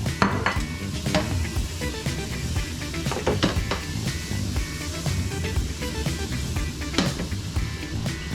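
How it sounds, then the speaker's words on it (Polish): Butter melting in a hot frying pan while egg cutlets are prepared, a steady soft sizzle with scattered clinks and scrapes of utensils against the pan, close and with no talking. "W międzyczasie roztapiamy nasze masełko na rozgrzanej patelni."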